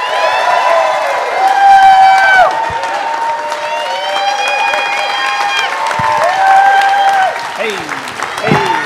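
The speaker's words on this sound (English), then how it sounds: "would you guys do me a favor and welcome, within Our City Church, welcome Dr. Sam Huddleston." Church congregation applauding and cheering to welcome a guest speaker, sustained clapping with whoops throughout, while a voice talks over the crowd.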